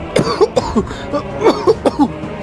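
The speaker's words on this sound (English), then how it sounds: "He began to cough and hold his throat." A man coughs repeatedly in quick, harsh bursts, close and loud, with a few throaty rasps between them.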